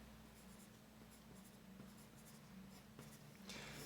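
Writing on a board during a chemistry lesson on energy sublevels, a close, steady run of scratchy strokes with short breaks between marks.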